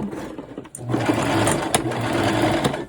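A sewing machine stitching a permanent crease into a garment, starting with a few short bursts then settling into a steady, close mechanical whir with a rhythmic needle chatter.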